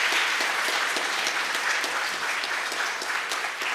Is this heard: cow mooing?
no